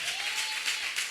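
Short burst of applause from a church congregation for a brother, steady clapping with a faint tone underneath.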